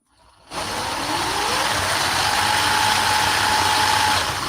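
A homemade tracked vehicle's engine starting up and then running loud and steady close by, a dense rough roar with a rising whine as the revs climb, with no voices.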